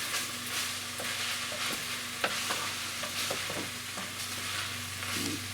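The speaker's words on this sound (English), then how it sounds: "Give this a good stir." Onions stirred in a hot pan while cooking, a steady close sizzle of frying under intermittent scraping and clinking of the spoon against the pan, with no talking.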